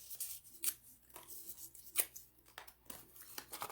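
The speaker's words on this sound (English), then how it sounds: "let me put our tickets in the bag here" Paper raffle tickets rustle and crinkle inside a bag as it is shaken, a handful of quick papery bursts at close range and moderate volume, with no talk over them.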